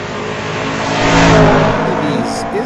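Drag racing at Mission Raceway Park, a 1965 Chevy II against a 1983 Ford, with loud engine roar swelling to a peak near the middle and easing off, while a commentator talks over it.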